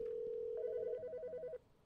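Touch-tone dialing in a video game: a steady tone gives way to a quick run of rhythmic keypad beeps, close and clear, ending abruptly with no talk over it.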